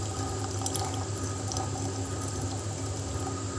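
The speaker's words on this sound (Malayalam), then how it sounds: "ഇതിനകത്തേക്ക് ഞാൻ കുറച്ച് ചൂടുവെള്ളം ഒഴിക്കുകയാണ്." Hot water poured into a bowl while preparing gooseberries, a short continuous liquid trickle and splash with small bright spatters, close and fairly quiet, with no talking.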